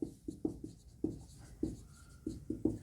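A definition being written by hand for a maths lesson, with scratchy pen or chalk strokes in irregular taps and short drags, close and fairly quiet, and no speech.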